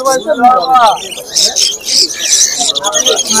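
Lutino and black cockatiels at a busy pet market give shrill, scratchy chirps and calls in quick bursts, close by, with a voice also heard.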